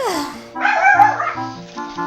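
Several pet dogs bark in the background indoors, a few short yaps mixed in with tonal video game sounds from The Legend of Zelda: Ocarina of Time.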